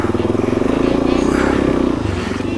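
A Suzuki DRZ 400SM supermoto motorcycle engine chugs loudly off road in soft ground, with a close, steady pulsing rumble and scraping clatter throughout.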